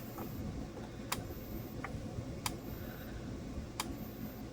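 A repaired high-voltage unit running steadily, giving three sharp clicks spaced about a second and a half apart over a quiet continuous hum.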